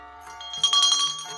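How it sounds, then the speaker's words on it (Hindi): A small temple bell rings with a bright metallic clang, its tone shimmering and ringing on briefly before fading, heard alone without voices. "जैसे ही हमने घंटी बजाई"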